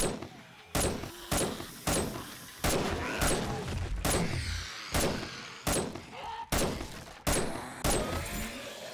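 Sniper rifle fire at a biker zombie in the video game 7 Days To Die, about a dozen sharp, loud shots at a fairly steady pace, each with a short rumbling tail and mechanical clunks between.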